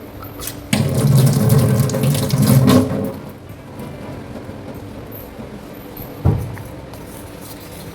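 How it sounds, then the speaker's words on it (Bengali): Water from a kitchen tap splashes loudly onto hands being washed for about two seconds, then eases to a quieter trickle, with a brief clatter near the end. "হাতটা ধুয়ে নিই।"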